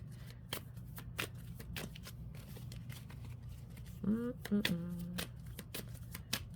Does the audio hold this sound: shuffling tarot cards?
yes